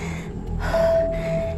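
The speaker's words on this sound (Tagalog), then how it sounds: "Inhale." One deep, close inhale, a single drawn-in breath that swells quickly and then tapers off.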